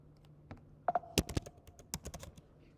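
Fingers tap on a computer keyboard in a quiet room: scattered sharp clicks, then a quick run of keystrokes, close and fairly soft, with no talking.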